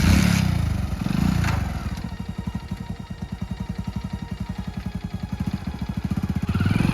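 A motorcycle engine catches after a few rough bursts and settles into a fast, even idle thump, loud and close.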